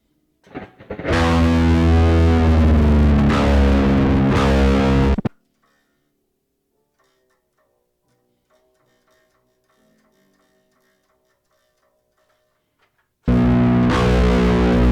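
An electric guitar with its low string tuned down to B rings out loud and heavily distorted, two sustained chugging bursts with a near-silent gap between them.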